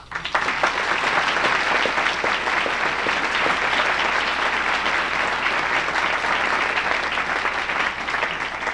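Audience applause welcoming Denis Hayes at an Earth Day 1990 event, dense sustained clapping from a large crowd that begins abruptly and stays loud and even for several seconds.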